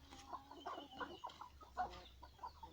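A flock of backyard chickens clucks at evening feeding time in rural Thailand: soft, scattered, overlapping clucks at low volume, continuous and fairly close with no voices.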